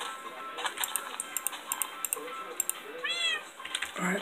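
A cat meows in a survival video game, one clear drawn-out meow near the end over a rapid, ticking patter of game sounds, with no talking.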